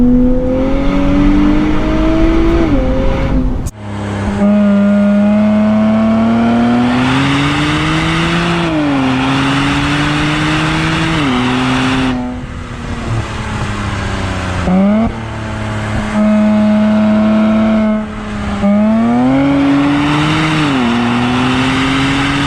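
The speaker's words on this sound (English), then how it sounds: "High RPM, it sounds like wind just escaping the car." A 2023 Nissan Z with a bone-stock exhaust revs repeatedly to high RPM, its loud, airy engine note rising and falling in sweeping pulls with brief dips between them, sounding close and with no talk over it.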